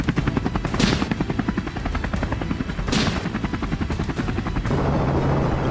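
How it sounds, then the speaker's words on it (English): Rapid rhythmic chopping of helicopter rotor blades pulses steadily through a wild boar hunt, with brief sharper bursts suggesting gunfire over the engine roar; continuous and fairly loud, no voices. "the helicopter blades slicing through the air, and the gunfire mixed with the roar of the engines"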